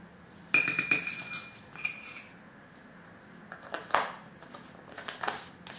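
Metal spoon clinking against a container while black mineral oxide is added for a homemade bronze eyeliner, with a burst of bright clinks and scrapes followed by scattered lighter taps, close up.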